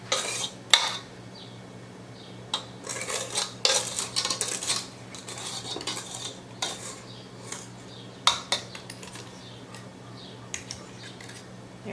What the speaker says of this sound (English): I'm going to scrape down the edges here a little bit.